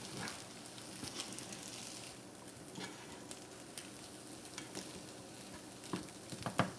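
Egg-free vegetable fried rice made with plant-based egg substitute fries in a pan while being broken up, a steady close sizzle with scattered scraping clicks and taps, no talking.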